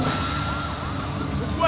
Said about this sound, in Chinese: 此时附近的警笛声此起彼伏